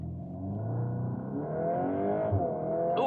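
Volkswagen hot hatch making a launch-control start, the engine note rising steadily as the car accelerates hard through the gears, heard close from inside the cabin without speech.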